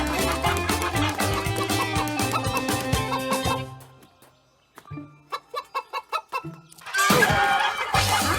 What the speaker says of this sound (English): Oh no! The chickens escaped.